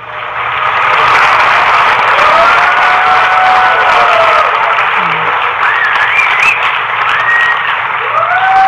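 Loud, sustained applause from a seated audience at a motivational talk, dense clapping mixed with a few whistles and whoops, continuing steadily for the whole stretch.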